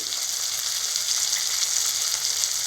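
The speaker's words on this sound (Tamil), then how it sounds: "இது எல்லாத்தையும் சேர்த்து நல்லா வதக்கிக்கலாம்." Spices, sambar powder and softened tomatoes fry in oil for a garlic kulambu, giving a steady, even sizzle close by with no talk.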